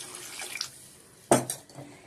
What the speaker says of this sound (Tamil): அதுக்கப்புறம் இது நல்லா மிக்சர் ஆன பிறகு ஒரு சொம்பு தண்ணி ஊற்றிக்குங்க.